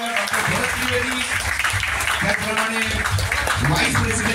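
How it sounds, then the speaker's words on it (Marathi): A crowd at the Deshdoot Jeevan Sanjivan and Jeevan Gaurav award ceremony applauds steadily throughout, a dense wash of clapping with voices and some tonal sound running over it. "एकदा जोरदार टाळ्यांनी आपण स्वागत करूया"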